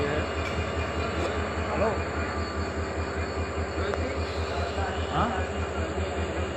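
A train at Viramgam railway station rumbles steadily at close range, a continuous low drone with faint metallic squeals and clanks, while a person briefly speaks on a phone over it.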